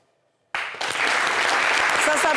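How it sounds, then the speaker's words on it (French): A studio audience bursts into applause for a guest on a French-language talk show after half a second of silence, the clapping dense, loud and steady, swelling slightly and continuing to the end. "Ça s'applaudit, on reçoit Fatou Baïli ce soir"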